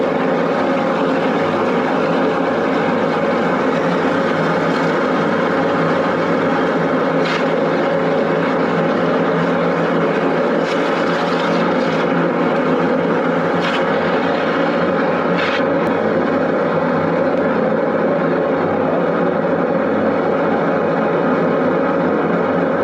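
High-pressure drain jetting machine clearing a grease blockage, its engine and pump giving a loud, steady roaring drone throughout with faint clicks and no voices.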